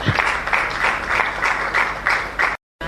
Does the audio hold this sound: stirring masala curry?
no